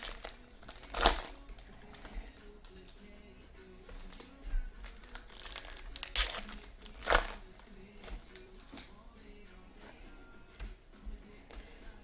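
Packs of 2015 Panini Gridiron Kings football cards being torn open, with sharp crinkling foil rips in bursts and soft rustling of cards between them, close and faint, no talking.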